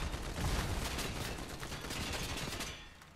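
Rapid bursts of gunfire in Fortnite crackle loudly and continuously, with several weapons firing together in a dense volley that tapers off slightly toward the end, no voices.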